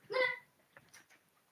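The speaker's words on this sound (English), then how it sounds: "That's my dog." A pet dog gives a single short bark or yip at close range indoors, followed by quieter faint sounds in a room.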